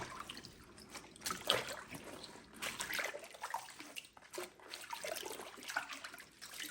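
Fresh greens swished and rinsed by hand in water, several rounds of splashing and trickling in a steady, close, moderately quiet stream with no talking.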